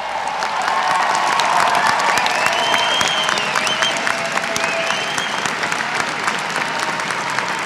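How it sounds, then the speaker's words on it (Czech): Large outdoor crowd applauding on Národní třída in Prague during a November 17 commemoration, sustained dense clapping with cheers and whistles rising through it, loud and continuous. "Potlesk zní na pražské Národní třídě"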